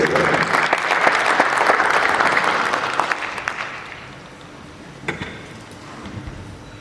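An audience applauds panelists at an ICT summit, a dense burst of clapping that is loud at first, then thins and fades after about four seconds, leaving a few scattered claps near the end.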